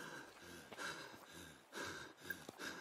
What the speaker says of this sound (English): I'm heavy breathing.